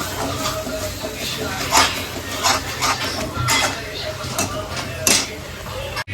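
A metal spoon scrapes and clanks steadily against a pan while masala fries with onions in oil, a continuous close clatter over a low sizzle.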